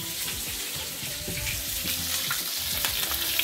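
Bacon and fries fry in a pan with a loud, dense, continuous sizzle and bubbling crackle, close up and without talk.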